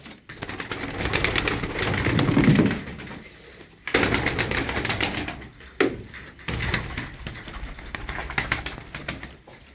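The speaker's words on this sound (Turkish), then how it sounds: "Kanat sesine bak Abo." Pigeon wings flap rapidly in long rustling bursts, fairly close, with a short pause between flurries.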